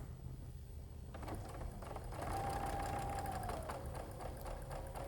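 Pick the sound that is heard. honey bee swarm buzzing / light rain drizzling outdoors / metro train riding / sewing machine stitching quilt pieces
sewing machine stitching quilt pieces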